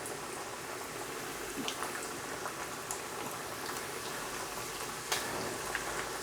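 Chicken pieces frying in hot oil for crispy Chinese-style garlic chicken, a dense steady crackle and sizzle with scattered sharper pops, close and continuous with no talking.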